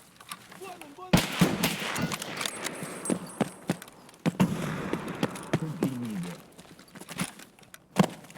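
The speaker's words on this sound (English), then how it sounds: "Where do you think those shots are?" Gunshots from Escape From Tarkov, several sharp cracks scattered across the clip, some close and loud, others fainter and distant, mixed with footsteps and movement noise, with voices talking in between.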